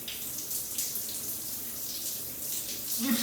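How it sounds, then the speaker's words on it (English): Water from an overhead shower falls steadily onto the floor of a walk-in wet room, a continuous close hiss of spray with no talk. "when you just get underneath the shower,"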